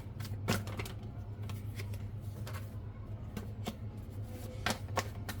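Tarot cards are shuffled by hand in a crisp, irregular flurry of riffling and slapping bursts, close and fairly quiet over a low steady hum, with no talk.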